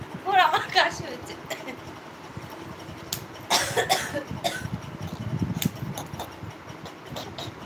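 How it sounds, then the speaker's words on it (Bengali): Someone at home coughs in a few brief, close bursts during a live family stream, with talking and quiet household noise around the coughs. "ওর আমার কাশি হচ্ছে।"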